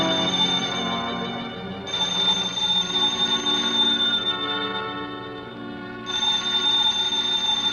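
Telephone ringing as a radio drama sound effect in a 1940s suspense mystery, an old-style bell phone heard in two long trilling rings separated by a short pause, loud and alone with no voices over it.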